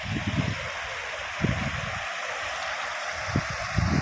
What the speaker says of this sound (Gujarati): આ ગુડાજલી નદી છે